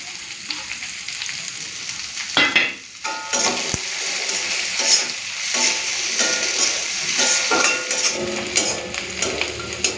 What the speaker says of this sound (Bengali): চলুন পেঁয়াজ কুচিটা দিয়ে দিই